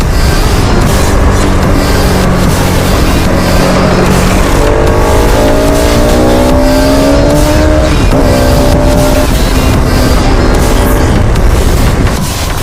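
A scrambler motorcycle ridden on an evening outing with friends, its engine droning loud and steady throughout, rising and falling in pitch as the rider shifts and accelerates, with constant wind rush and no talking.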